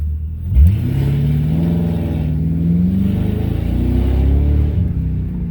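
A Lincoln Town Car with a loud, throaty modified exhaust and 3.73 gears launches from a standstill and accelerates hard, the engine note climbing steadily through the revs, close and continuous.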